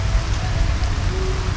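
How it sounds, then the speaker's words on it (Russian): Heavy rain pours down in Baguio in the Philippines, a dense, loud, continuous hiss and patter of drops hitting surfaces close by, with no voices over it. "Ну а теперь льет дождь"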